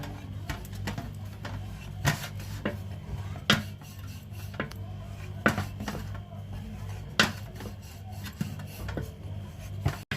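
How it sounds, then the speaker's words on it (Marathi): Finger millet bhakri dough rolled thin with a wooden rolling pin, giving soft, repeated rubbing and rasping strokes with occasional sharper knocks against the board, close up and steady, with no talking. "हलक्या हाताने लाटण्यानेच लाटायचं"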